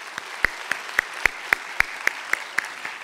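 A church congregation at a Korean Baptist New Year's Eve service claps in unison, about ten evenly spaced, crisp claps in a steady rhythm over a quiet room hum.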